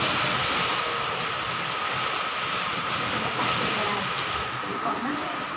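Heavy pre-monsoon Kalbaishakhi rain pouring outside a balcony, a dense, loud, constant hiss of downpour filling the whole clip, with a voice speaking faintly underneath.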